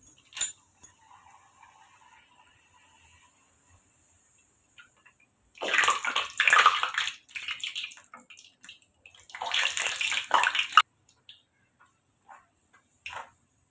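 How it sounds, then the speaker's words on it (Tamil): Puris drop into hot oil for deep-frying, setting off two loud bursts of bubbling, crackling hiss a few seconds apart, with faint clicks and near silence around them. "இப்போ நமக்கு எண்ணெய் சூடாயிருச்சு இப்போ பூரியை போட்டு எடுத்துக்கிறலாம்"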